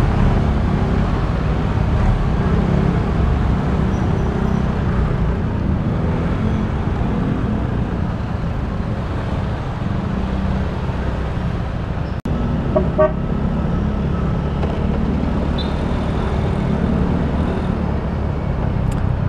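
A slow-moving road traffic jam near Pansol: a steady engine rumble from idling and crawling cars, with a few short horn toots near the middle.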